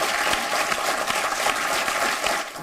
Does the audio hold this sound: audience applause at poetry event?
yes